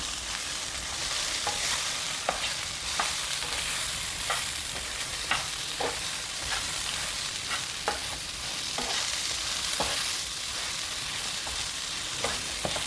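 Eggplant pieces fry in oil as a spoon stirs them, with a continuous loud sizzle broken by regular scraping taps of the spoon against the pan.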